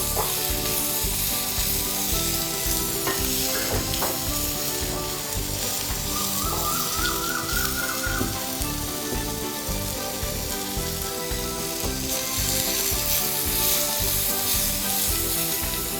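Green chilies and red onions fry in a pan with a dense, steady sizzle close by and faint stirring, while a music track plays loudly over it the whole time.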